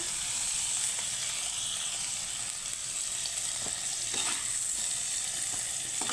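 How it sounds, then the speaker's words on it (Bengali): Potatoes and pointed gourd frying in an oil-filled wok, a steady close sizzle and hiss running continuously, with faint stirring scrapes breaking through now and then; no talking. "এখানে আমার আলু পটলগুলো খুব সুন্দর করে আমি লাল করে ভেজে নিয়েছি"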